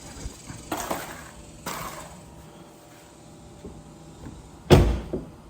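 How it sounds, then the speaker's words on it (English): Several short bumps and clunks, then one solid thud near the end as a Tesla door fitted with a latch protector shuts, set against a quiet background. "Let's try the door, see if the door closes."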